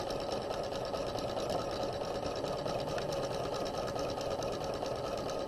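A sewing machine stitching a bodice side seam runs at a steady fast rhythmic whir, close and continuous, with no pauses.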